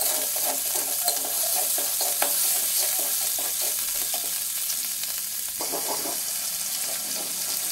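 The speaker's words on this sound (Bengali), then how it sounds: "লবণ দিয়ে ভালোভাবে কষিয়ে নিচ্ছি।" Chickpea masala with salt being stirred and sautéed in a pan, a steady sizzle of frying under repeated scraping stir strokes, close and fairly loud, with no voices.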